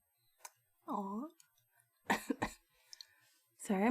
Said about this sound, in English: so I'm gonna cough a bunch